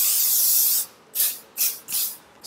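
Glue spray misted onto hair during a bob wig install: one long steady hiss, then three short separate bursts of spray, close and fairly loud, with no talking.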